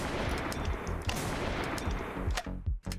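Rapid, continuous gunfire in the multiplayer shooter Screencheat, dense bursts of shots hammering without pause for about three seconds, loud and close, ending in a brief drop and a final couple of shots.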